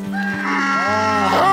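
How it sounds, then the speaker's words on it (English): Goats bleating in a farm setting in Cyprus, a loud close wavering cry that rises and bends, overlapping with another animal's lower call. "But apparently the goats like the grapes."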